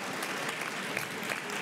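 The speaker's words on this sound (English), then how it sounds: "give yourself a big round of applause" An audience at a mayor's national summit on racial inclusion claps in a brief, even round of applause, heard from a slight distance at moderate volume.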